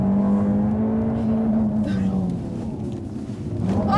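A production supercar accelerates hard on a track, its engine drone sustained and loud close by, easing briefly before building again near the end.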